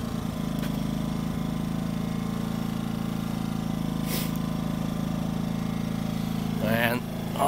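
A Yamaha 2000-watt inverter generator runs at a steady, close drone in an RV setting, its smart throttle easing the engine speed down; the hum holds even throughout, with brief voice-like bursts near the end.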